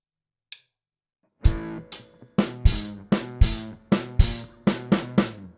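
A slow drum fill alternating snare and hi-hat, then ending in repeated snare hits: about a dozen sharp, evenly spaced strikes after a lone tap, close and dry with no talking.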